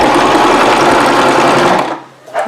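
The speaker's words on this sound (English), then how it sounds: "I'm going to put my presser foot down, and then I'm going to begin sewing" A sewing machine stitches hair bundles onto a wig cap, running with a steady, loud, fast mechanical whir before stopping abruptly near the end.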